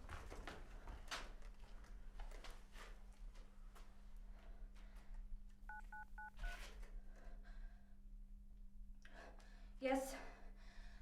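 A mobile phone keypad sounds a quick run of dialing tones, faint beneath a steady hum and background noise, while people speak quietly nearby.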